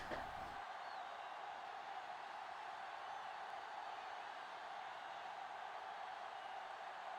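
A New York stadium crowd roars steadily in a football video game after a tying point-after kick, a broad, even wash of cheering at a moderate distance that holds without a break.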